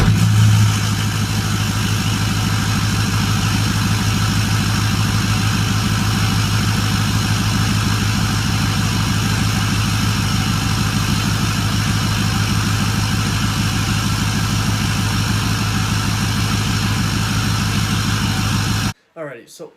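A Ford 6.4 Powerstroke diesel with a straight pipe exhaust idles in a loud, deep, steady rumble with a thick low drone for nearly twenty seconds, cutting off abruptly at the end.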